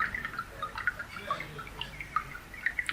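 Water drips and trickles in the film Solaris, scattered bright plinks at irregular intervals over a faint, quiet background, with no talk.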